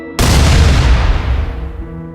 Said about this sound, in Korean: 멀리서 다시 적의 박격포 발사 소리가 퉁 하고 들려왔습니다